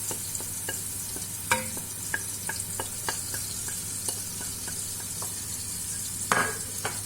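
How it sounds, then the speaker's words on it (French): Meat with spices, garlic and parsley stirred in a sizzling pan: a steady frying hiss with repeated close scrapes and taps of the spoon against the pan, no voices. "Je vais mélanger tout ça."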